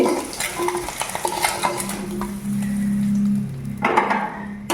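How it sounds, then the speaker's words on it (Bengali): Fried eggs are lifted from a pan of hot oil: a spatula scrapes and clinks against the metal over a soft sizzle, followed by a sustained hum and another clatter near the end. "আমার ডিম ভাজা হয়ে গিয়েছে উঠিয়ে নিচ্ছি"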